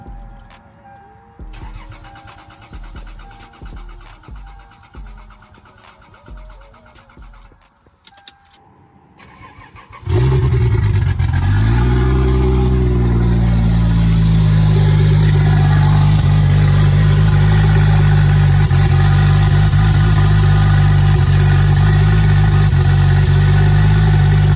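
A naturally aspirated-to-turbo Lexus GS300 engine cranks with a rhythmic starter churn for several seconds, catches abruptly and settles into a loud, steady close-up idle.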